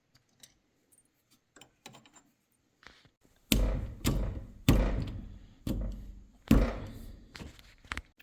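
A car CV shaft takes a series of heavy metallic blows, about five loud hits spaced roughly a second apart, after a few faint taps and clinks.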